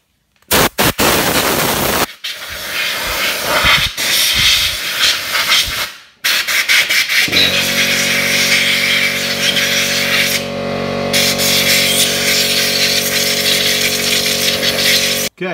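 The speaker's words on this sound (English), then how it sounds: "And this, gonna get some compressed air." Compressed air blasts loudly through motocross bike carburetor parts in sharp hissing bursts, then an air compressor starts up with a steady humming drone under continued hiss.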